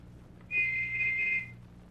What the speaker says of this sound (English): listened for another whistle